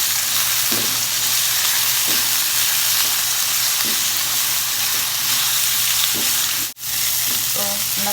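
Red onion and sweet and hot chili frying in a pan for shrimp cooked in Sprite with ketchup, giving a steady loud sizzle throughout with a few stirring scrapes and one brief dropout near the end.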